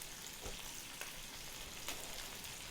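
Gumbo roux browning in a Hexclad pan gives a steady, quiet sizzle with a few faint stirring scrapes, and no voices are heard.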